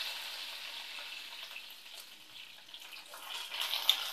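Curry leaves fry in hot coconut oil with spluttered mustard seeds for pineapple pulissery, giving a steady close sizzling hiss that swells louder toward the end, with a single sharp pop and no talking.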